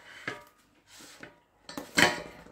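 Food flipped in an air fryer basket, a handful of sharp metallic clatters and scrapes of utensil against basket, spaced irregularly, the last one loudest, close-up and without speech.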